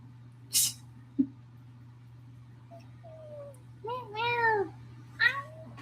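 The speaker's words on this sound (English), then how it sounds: "You're such a good kitty, Willow." A house cat meows a few times, rising and falling calls close by over a steady low hum, with a brief voice and small knocks in between.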